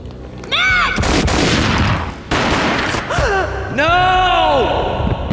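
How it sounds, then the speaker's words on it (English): Gunfire in the video game Max Payne, loud bursts of shots with a booming tail, mixed with gasps and strained vocal sounds and a pause between blasts. "A gunshot boomed and she fell down in slow motion."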